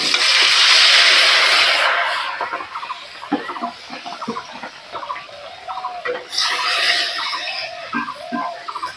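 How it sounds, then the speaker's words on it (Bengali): Parshe fish frying in hot oil in a village kitchen gives a loud, hissing sizzle that swells, fades to a quieter crackle, then surges again, while poultry clucks in the background. "বাকি মাছগুলো এরকম ভাবে ভেজে নেব।"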